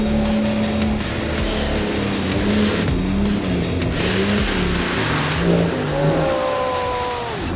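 A 4WD engine revs hard and steadily through a deep mud bog hole on Tasmania's Climies Track, loud and close throughout, with rising and falling pitch as the throttle surges.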